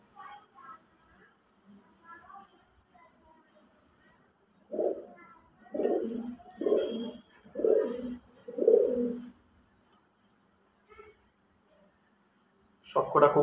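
Pigeons of a high-quality breeding stock, including a male, coo in a run of five loud, throaty bursts in the middle, with fainter cooing and soft calls before and after.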